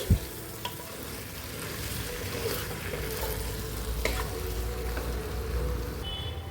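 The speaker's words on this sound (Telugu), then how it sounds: "ఆయిల్లో బాగా ఫ్రై చేసుకోవాలి నాటుకోడిని" Country chicken frying in hot oil in a pan, a steady close sizzle with occasional stirring scrapes and a sharp knock at the start, no voices.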